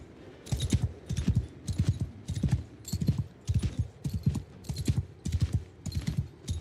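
Horse hooves gallop in the Old Realms Warhammer mod video game, a steady repeating clip-clop rhythm of quick hoof strikes, fairly close and continuous throughout with no talk.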